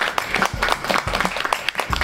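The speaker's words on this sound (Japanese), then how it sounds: "拍手でお迎えください" A room of people applauds before a bonsai demonstration, a brief burst of dense, close clapping that stays steady and loud throughout.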